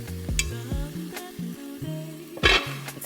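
A pound of dry corkscrew noodles tipped into a pot of boiling water for seafood boil mac and cheese, giving a few short, close splashy rattles over a steady bubbling sizzle and low tonal background sound.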